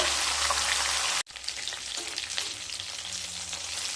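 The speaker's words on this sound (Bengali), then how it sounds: "দুটো সাইডকে খুব ভালোভাবে ভেজে নেব।" Fish head frying in hot oil in a pan, a steady dense sizzle that cuts out briefly and resumes just as strongly, close and continuous with no talk.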